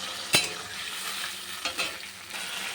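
Spice paste sizzling in a pan with already-fried potatoes, stirred close by: a steady hiss broken by a few sharp scraping knocks of the spoon.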